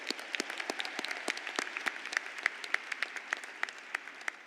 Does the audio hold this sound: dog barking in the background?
no